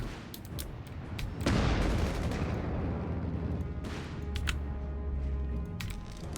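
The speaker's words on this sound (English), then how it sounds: "this guy's like just feeding in so many mortars" Mortar and artillery fire in the World War II strategy game Company of Heroes 3, set in an urban battle: a heavy boom rises partway through, followed by sustained rumbling bombardment with scattered sharp impacts and a low engine drone.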